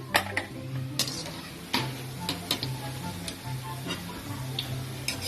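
Pork pieces frying crisp for lechon kawali crackle softly in the pan while sharp metallic taps and scrapes of a ladle ring out at irregular intervals, close and fairly quiet.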